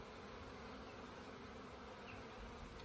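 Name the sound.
bees flying around a nuc hive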